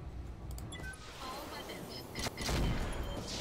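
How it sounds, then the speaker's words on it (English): Heavy weapons on a mech fire in the video game Roguetech, a run of booming shots and rumbling impacts building toward a louder blast near the end, amid game sounds and some speech. "Nice, the big weapons hit."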